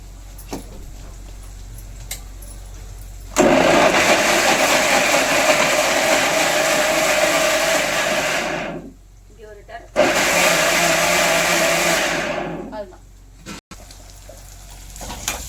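Tomatoes are coarsely ground in a mixer grinder, producing two loud, close whirring bursts of several seconds each with a short pause between them and quieter background before and after.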